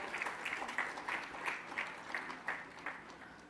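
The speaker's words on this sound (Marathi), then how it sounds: "जोरदार टाळ्या मुंबईसाठी आपल्या" Audience applause at an awards ceremony in Mumbai, steady rapid clapping from a crowd heard at a moderate distance, fairly faint and continuous throughout.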